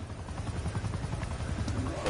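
A helicopter in Call of Duty Black Ops 6 Zombies gives a continuous rhythmic rotor chop that stays steady and prominent throughout the game audio.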